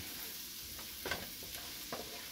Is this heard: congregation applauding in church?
no